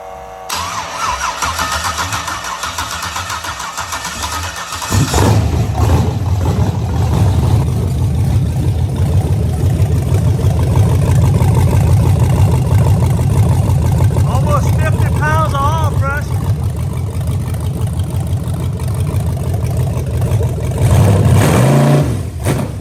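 An LQ9 6.0 V8 in a '68 Impala cranks and fires around five seconds in, then runs loud and close with a rough idle and repeated revs, while people talk during the start.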